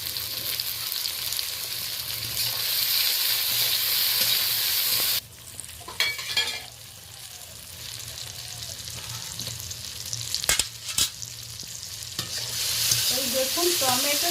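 Pond fish pieces and potato frying in a pan with tomato and onion, sizzling steadily up close while a utensil stirs and scrapes in bursts, with a few sharp clinks and no talk.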